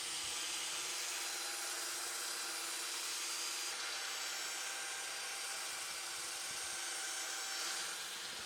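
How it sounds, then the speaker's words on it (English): A belt sander works across a solid wood table top panel, making overlapping passes at an angle; a steady, fairly faint abrasive whir and rasp runs throughout, with no talking. "I'm just working my way across this panel by holding the belt sander at like a 45-degree angle or so and just making overlapping passes"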